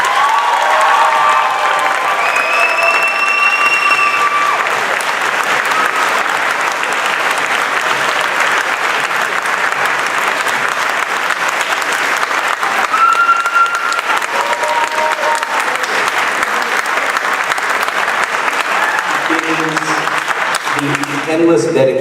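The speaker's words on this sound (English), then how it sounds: "a round of applause?" Sustained applause from a school awards assembly audience honoring faculty and staff, a dense steady wash of clapping lasting throughout with some cheering and children's voices mixed in, and scattered talk faintly underneath.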